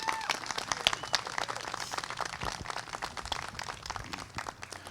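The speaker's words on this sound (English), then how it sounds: "Give Rocky a big round of applause" Wedding guests at a ceremony clap for the officiant, a dense, sustained round of applause with scattered sharper claps, fairly close and steady throughout.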